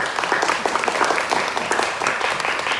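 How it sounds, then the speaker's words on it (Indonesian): Lively applause rises from a church audience during a service, many hands clapping in a thick, continuous patter, fairly loud and close, with no voices over it. "Tepuk tangan dulu untuk kalian."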